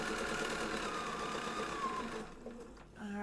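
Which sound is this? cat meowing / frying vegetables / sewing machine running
sewing machine running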